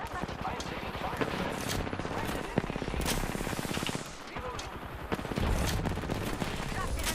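Rapid bursts of automatic gunfire in an Apex Legends firefight, loud and continuous, with dense repeated shots and sharp cracks throughout, some voice speaking underneath the battle.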